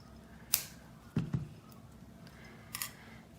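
Scissors trimming off a piece of paper during a craft project, with a few quiet, close snips and clicks spread across a hushed room.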